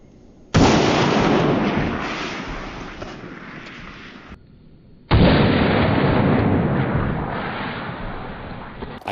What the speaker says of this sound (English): we'll shoot the fire extinguishers